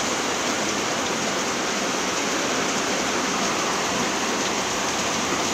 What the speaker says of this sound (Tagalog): Saka itong ulan.